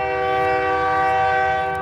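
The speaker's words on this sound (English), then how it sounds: "Damn, that's a loud train." A passing train sounds its horn in one very loud, sustained, steady blast that fills the whole stretch, close by outdoors.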